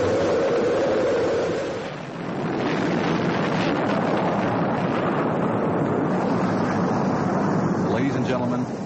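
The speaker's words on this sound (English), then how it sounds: "We have main engine start." Rocket main engines igniting at launch in an archival 1981 broadcast: a loud, sustained broadband roar that builds and rumbles steadily through the whole stretch, with a brief dip early on before settling into a continuous thundering wash.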